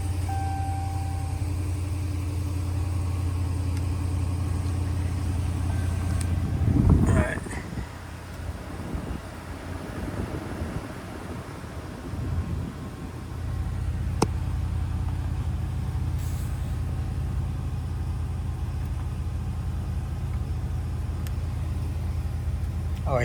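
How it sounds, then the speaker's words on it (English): A pickup truck engine with the heater running fires up with a brief loud burst, then settles into a steady low, rumbling idle that continues to the end. "I'm gonna turn the motor on"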